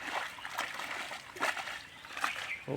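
Water splashes and sloshes in a pond during fishing, with several soft irregular splashes at close range. Faint voices can be heard underneath.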